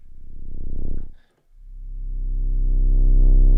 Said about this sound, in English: So this is like a mono sub. It's got some sine waves, it's got a little bit of triangle, a little bit of saw